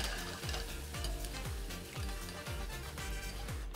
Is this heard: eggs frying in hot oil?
yes